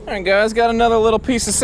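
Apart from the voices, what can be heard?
None of the usual background noises is heard.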